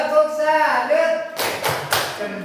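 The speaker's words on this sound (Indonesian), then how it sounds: "Bisa tepuk salut? Coba tepuk salut." A classroom of students performs a rhythmic clapping routine, sharp bursts of claps in a quick pattern following a teacher's voice, loud and close in a room.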